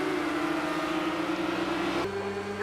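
A Porsche race car engine in the Project Cars 2 racing game at the 24 Hours of Spa drones steadily at high revs, then shifts gear with a sudden jump in tone near the end.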